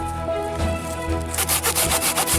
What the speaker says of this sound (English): so back to using my little saw again